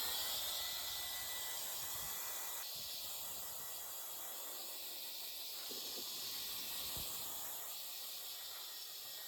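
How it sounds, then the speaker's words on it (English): An air duster blowing a steady, continuous hiss over the engine of a 1992 Toyota Pickup 22RE, close and even for several seconds, with a slight change in tone partway through and no speech. "Give it a little blow with my air duster."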